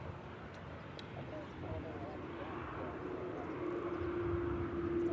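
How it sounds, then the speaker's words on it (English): An Etihad Boeing 787 Dreamliner taxiing out at Manchester Airport makes a steady jet engine rumble and whine that swells slightly toward the end, heard from a distance under ongoing background noise. "Etihad Dreamliner taxiing out"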